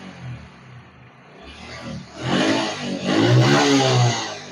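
A CD 70 motorbike engine, just fitted with new piston rings, idles low and then revs up twice, rising to a loud rough roar close by.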